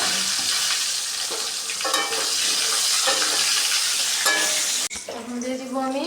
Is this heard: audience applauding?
no